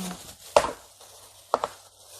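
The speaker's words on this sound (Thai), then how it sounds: "ทีนี้เราก็มาหั่นชิ้นตามชอบได้เลยนะคะ" A knife slices through a Thai chive cake (kuichai) with filling. Two distinct, crisp cuts knock against the board about a second apart, close and clear in an otherwise quiet room.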